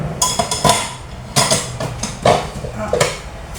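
Dishes and cutlery clatter while a dishwasher is loaded in the morning, a series of sharp clinks and knocks at irregular intervals, close and fairly loud in a quiet kitchen.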